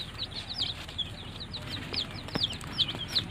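Young Rhode Island Red and local chicks on a farm give repeated high, thin peeps and chirps. The calls come quickly and overlap over a low background murmur.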